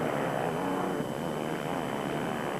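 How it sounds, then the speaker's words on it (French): Four-stroke MX1 motocross bikes race at Lichtenvoorde, their engines held against the rev limiter in a steady, dense buzzing drone that stays loud and continuous throughout. "Vous entendez les moteurs 4 temps qui régulent."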